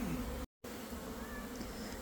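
Honeybees fanning and buzzing during a swarm collection make a low, continuous drone that cuts out briefly near the start and then resumes steadily.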